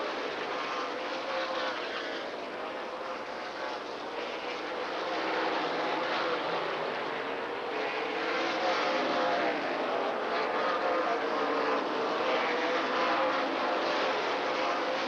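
NASCAR stock cars racing at Rockford Speedway, a continuous loud engine roar from a pack of cars, steady and sustained throughout with no talk.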